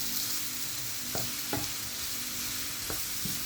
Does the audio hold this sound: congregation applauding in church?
no